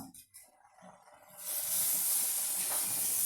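A pot of Guruvayur kalan curry boils away, with faint clatter giving way to a loud, steady steamy hiss that rushes on without pause.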